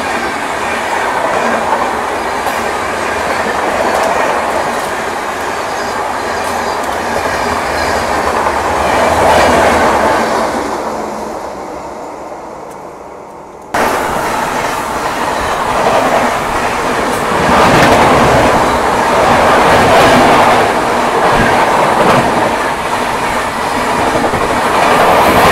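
A Secunderabad Duronto Express overtakes a moving Chennai Garib Rath Express, heard from aboard the slower train: a loud, steady rumble of wheels with rhythmic clickety-clack, rising and dipping, with a brief drop partway through and no speech.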